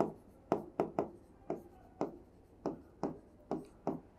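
A pen writes in a quiet room, about nine short scratchy strokes each ending in a decaying tail, spaced roughly every half second, close and fairly faint with no talking.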